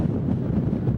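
Wind buffets the microphone at an outdoor youth soccer cup final in San Bernardino, a steady low rumbling roar that fills the whole clip, loud and close, with no voices.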